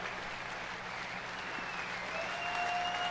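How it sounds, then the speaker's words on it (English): Steady applause from a crowd at the CitizenCon 2017 convention, continuous clapping that swells slightly toward the end, with no voices over it. "get a well-deserved round of applause"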